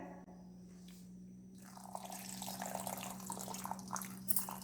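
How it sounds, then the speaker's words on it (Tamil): Water trickles and splashes as it is poured into a mixer jar in a home kitchen while preparing vegetable kurma, a faint, steady pouring that grows a little fuller halfway through. "அப்புறம் தண்ணி ஊற்றிக்கலாங்க."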